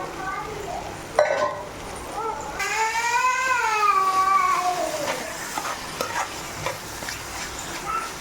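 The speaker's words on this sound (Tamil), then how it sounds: "நம்ம அரைச்சி வச்சுருக்கிற கீமா சிக்கன் போட்டுடலாம்." Minced chicken kheema sautéed and stirred in a pan, a soft sizzle with scraping and clinks of the spoon against metal, while someone talks over it and a high meow-like tone rises midway.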